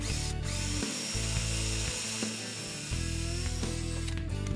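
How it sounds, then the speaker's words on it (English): A power drill bores dowel holes into a wooden board in several short bursts, close and fairly quiet, the motor whirring with brief pauses between runs. "Now when you drill these, you want to make sure you don't go all the way through your board"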